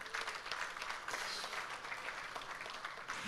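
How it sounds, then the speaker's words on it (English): Audience applause at a business awards ceremony, continuous crowd clapping at a fairly low level, steady with slight swells. "Give them another round of applause,"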